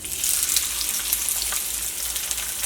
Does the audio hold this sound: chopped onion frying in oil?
yes